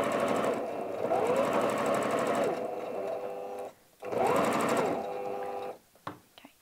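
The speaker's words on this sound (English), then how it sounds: "Just going to secure it with a back stitch." Sewing machine running a back stitch on a fabric tablet cover, two steady close whirring runs separated by a brief pause as the direction reverses, followed by a few clicks.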